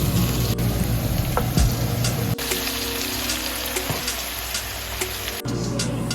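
Minced garlic and tomatoes frying in a pan, a steady close sizzle with occasional stirring clicks and scrapes.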